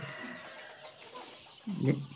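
Soft chick peeping and clucking from young farm chickens drinking at a drinker, over a quiet barn hum, with a louder burst of fowl calls near the end.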